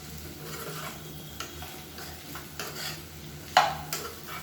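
Vegetable pieces fry with salt in a pan while being stirred, giving a soft, steady sizzle broken by scraping strokes and a sharper metallic clank near the end.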